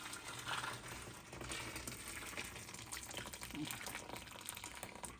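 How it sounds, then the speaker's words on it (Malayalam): Boiling water poured over lemons in a kitchen while making lemon pickle, a continuous splashing, gushing pour with some clatter, moderately close and fairly quiet. "തിളച്ച വെള്ളം ഒഴിക്കാൻ പോവാണേ."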